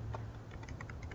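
Quiet keystrokes on a computer keyboard, a handful of soft irregular taps in quick succession, alone and close.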